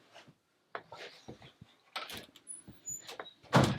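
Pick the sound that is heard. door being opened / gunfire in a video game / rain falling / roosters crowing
door being opened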